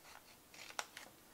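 A few quiet snips of scissors cutting paper, two or three short crisp cuts close by.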